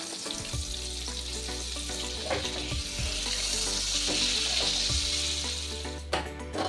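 Butter and white oil sizzle loudly in a frying pan for butter chicken, a continuous close hiss with scattered clinks and scraping from stirring.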